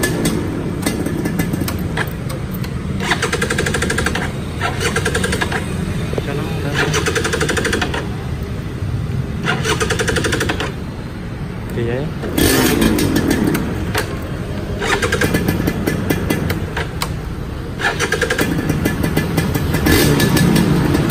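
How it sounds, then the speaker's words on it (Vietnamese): A 2000 Suzuki Xipo motorcycle engine runs close by, a loud, steady rattling roar with revving swells throughout, while someone speaks over it. "Quay sát một máy cho anh em nghe nha."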